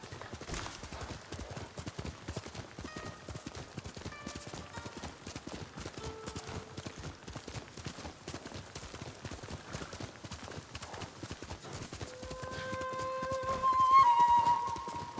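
Horse hooves beat a fast, rhythmic clip-clop at a gallop in the video game Ghost of Tsushima, steady and close, with tonal whistling sounds rising near the end.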